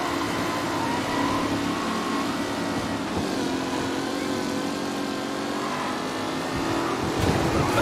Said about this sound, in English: Some rough racing out there.